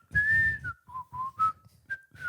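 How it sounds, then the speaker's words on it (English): Someone whistles a song tune in short melodic phrases, clear and close, with brief pauses between notes and soft breathy noise. "fair amount of whistling in the break, trying to work out what the song is"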